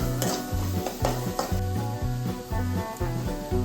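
Onions and curry leaves sauté in hot oil in a pan, a steady sizzle with rhythmic scraping strokes of a spoon stirring about twice a second, close and alone.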